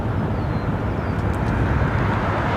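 A Boeing 787 Dreamliner airliner at London Heathrow gives a steady, loud broadband roar of jet engine noise that holds at an even level throughout, with no voices.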